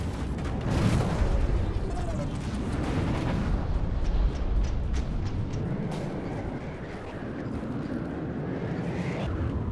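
Rumbling missile impacts and explosions in the naval combat game From the Depths, a dense, continuous roar of booms and blasts with some crackling bursts, loud and close.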